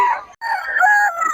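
A rooster crows loudly and close by, one full cock-a-doodle-doo call with a brief break near the start, and no talking.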